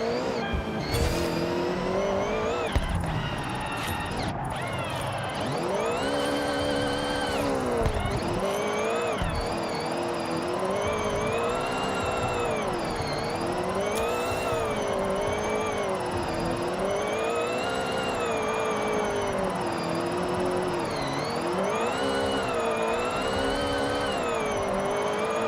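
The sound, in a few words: race car engine and tires in Forza video game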